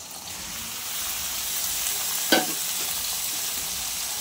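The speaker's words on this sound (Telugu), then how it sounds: "మిర్చి అయితే మంచిగా వేగాయి। ఇప్పుడు టమాటా ముక్కలు, చింతపండు వేసేసుకున్నాం।" Tomato pieces, tamarind and fried green chillies cooking in a pan for tomato-green chilli chutney. A constant loud sizzle is broken by one brief spoon scrape near the end.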